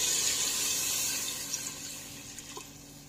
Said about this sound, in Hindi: अब मैं इसके अंदर पानी ऐड कर रही हूँ।